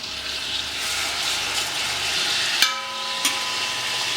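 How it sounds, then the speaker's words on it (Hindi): Onion paste sizzles steadily in hot ghee, a dense close hiss with a couple of sharp clinks from a utensil against the pan partway through. "उसी घी के अंदर अब मैं ये जो हमारे प्याज हैं इन प्याज को डाल रहा हूँ।"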